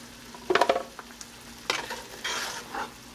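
A spoon scrapes and stirs tomato pasta sauce in a hot pan, bursts of clattering mixing and sputtering between quieter moments, close up with no talk.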